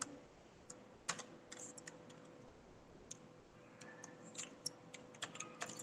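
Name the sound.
typing on a computer keyboard in MS Excel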